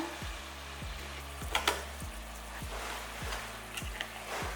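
Chopped tomatoes tipped into a hot frying pan make a steady crackling sizzle, with a few louder bursts of spatter partway through and a regular low thumping beneath.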